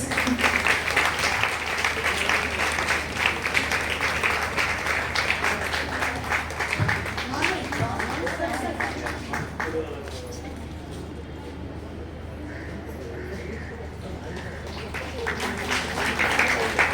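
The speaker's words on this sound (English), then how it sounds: "Clap, teachers." An audience at a retirement ceremony for teachers applauds in a continuous wash of clapping that thins out toward the end, with voices talking underneath.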